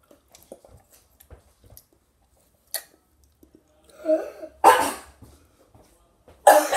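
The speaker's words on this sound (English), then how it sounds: "I was coughing. Because I was choking." A person coughs hard while choking on a Tootsie Roll: two loud, harsh bursts near the end follow a quieter stretch of small clicks and a short wheezy rasp.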